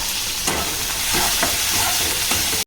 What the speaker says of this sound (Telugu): ఎండుమిరపకాయలు, అలాగే కరివేపాకు, అలాగే కొత్తిమీర వేసుకుందామండి. ఫ్రై చేద్దాం.